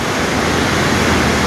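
Water flowing at a temple water pool in Mayanur makes a steady, dense rush with no break in its level, heard close with no voices over it.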